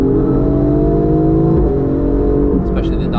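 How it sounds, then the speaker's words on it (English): An Alfa Romeo Giulia GTAm on the Nürburgring gives a loud, steady exhaust drone from inside the cabin, the pitch sliding down and then shifting near the end with a turbo flutter. "I really like the sound of the exhaust because it reminds me of a GT2 RS. This really turbo warble,"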